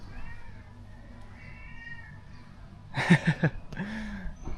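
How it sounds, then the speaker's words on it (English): Cats in a cat cafe on a Thai island meow a few times close by over a steady background hum, in short clustered cries near the end. "look, there's so many little cats in there, look."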